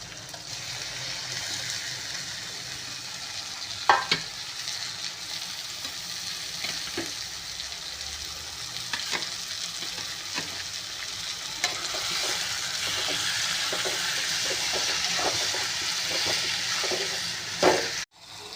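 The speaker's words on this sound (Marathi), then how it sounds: "हे मसाला तळून झालेला आहे। त्याच्यात वांग्याचं हे भरीत टाकायचं" Mashed roasted eggplant is stirred into frying masala for baingan bharta: a continuous close sizzle with repeated scraping stirs of a spoon against the pan, and no voices.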